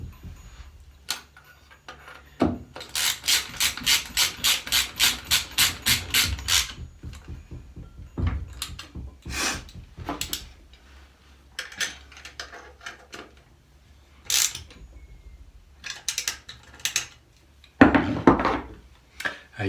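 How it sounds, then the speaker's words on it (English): A ratchet tightens shifter bolts on a Soarer/SC300 W58 or R154 transmission: fast rhythmic clicking bursts, the longest lasting several seconds, broken by clunks and short pauses, up close with no talking. "start doing them up with the ratchet"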